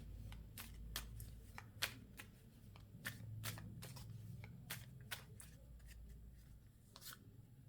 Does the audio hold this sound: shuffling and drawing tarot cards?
yes